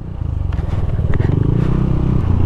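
A motorcycle engine, ridden on a quick trip through Burgos, La Union, throbs loud and steady close by, with road noise and rattle layered over the low engine drone throughout.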